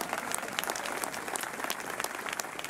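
Audience applause at an outdoor summer concert in Linneparken, Växjö: steady dense clapping from a crowd throughout, moderately loud.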